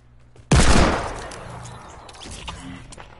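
A heavy sniper rifle fires in Fortnite, one sudden, very loud shot that rings out and slowly fades, followed by quieter game sounds and no speech.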